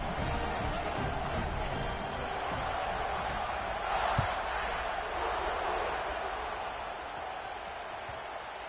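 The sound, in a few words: football stadium crowd cheering at kickoff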